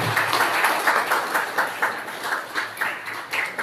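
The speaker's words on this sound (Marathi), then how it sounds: "जोपर्यंत हे सन्मान होत आहेत आपण आपल्या टाळ्या वाजवत राहू" Audience at a felicitation ceremony keeps clapping in a continuous, fairly loud wash of hand claps with a faint rhythmic pulse, no voices over it.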